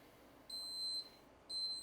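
Cooking thermometer signalling target temperature while cooking picanha steak: two clear high electronic beeps, each about half a second long, about a second apart, against quiet kitchen background.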